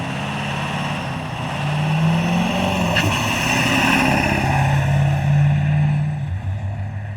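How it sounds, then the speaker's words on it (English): A drag racing truck engine labouring to spool its turbo, heavy blowby, a low droning roar that swells and sags with a faint rising whine, loud and close with no voices. "Dave Hefner trying to will this truck to spool the turbo."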